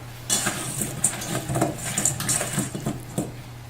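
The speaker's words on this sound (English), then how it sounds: "Then you're going to get a half sheet pan and place them" Steak fries are laid one by one onto a metal half sheet pan with a rack, giving a string of light clinks and soft taps with a few brighter metallic chimes, close and fairly quiet.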